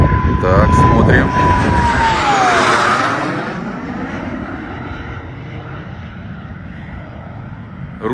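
A jet aircraft engine roars loudly during preparations for a jet air race at Oreshkovo, Russia, with a whine sweeping down as it passes, then a sustained rumble that slowly eases, with faint voices beneath.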